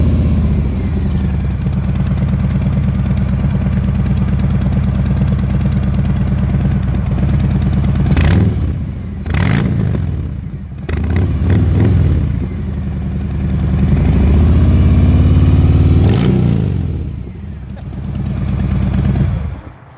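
Engine of a 2019 Harley-Davidson Fat Bob 114 (FXFBS) motorcycle, a loud, close, continuous V-twin rumble at idle with several throttle blips that surge and fall away, no one speaking.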